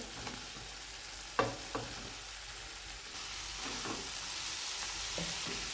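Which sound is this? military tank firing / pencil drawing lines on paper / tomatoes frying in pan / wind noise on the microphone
tomatoes frying in pan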